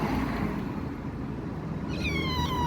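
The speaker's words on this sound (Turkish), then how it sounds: "Hiç daha mev dediğini duymadıydım ben." A female cat meows once at the vet's before a spaying operation, a clear, rising and falling cry near the end over steady room noise and background rumble.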